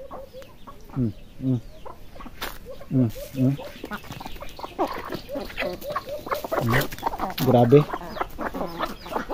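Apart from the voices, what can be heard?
turkey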